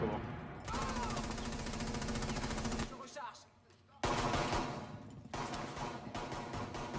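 Rapid automatic gunfire from a shooter game fires in loud, sustained bursts with a short lull between them, while players talk over the shooting.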